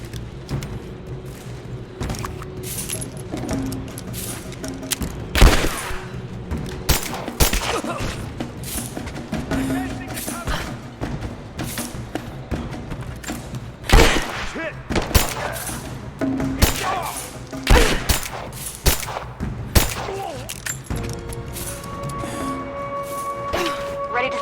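Gunfire in Rise of the Tomb Raider, with sharp shots and thuds striking in irregular bursts amid game combat, while voices call out over the action.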